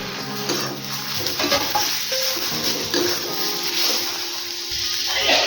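Tomatoes are stirred into a hot pan with sautéed garlic and cashew pieces for matar paneer, giving a loud, continuous sizzle with spoon scrapes against the pan.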